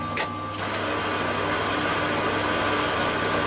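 A continuous machine hum and whine of a lathe drilling into a metal part, steady and close, with a couple of brief scraping clicks at the start.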